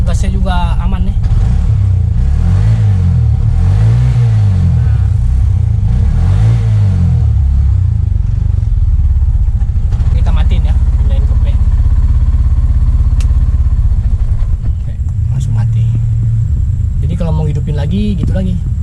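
A Bajaj RE auto rickshaw running on LPG idles with a loud, throbbing single-cylinder putter that stays steady throughout, briefly revving near the start, while someone talks over it.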